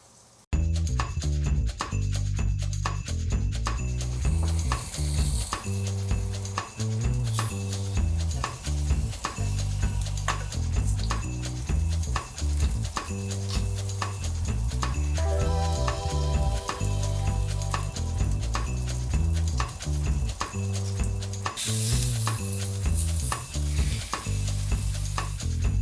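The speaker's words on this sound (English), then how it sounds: "We're gonna heat up the oil and the garlic, add in the rice and the herbs, some salt, get it kind of crispy, flip our fish" Garlic and rice fry in oil in a skillet with fish, giving a loud steady sizzle under repeated scraping stir strokes and occasional clinks of a utensil against the pan.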